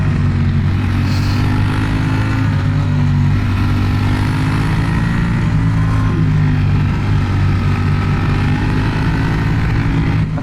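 Sport motorcycle ridden on a mountain road in Sardinia, its engine a loud, continuous close-up drone with wind rush, holding a fairly even pitch throughout.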